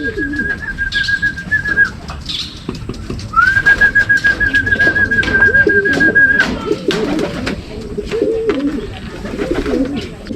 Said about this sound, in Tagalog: Yun mga kalapatids, dalawang itim,